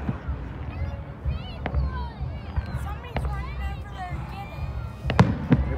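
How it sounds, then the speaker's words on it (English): Fireworks at a mega cruise car show in Penn Township give off sharp, scattered bangs and pops at a distance, mixed in with whistling, a murmuring crowd and nearby voices talking. "Watch fireworks right now."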